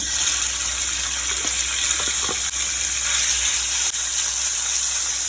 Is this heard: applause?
no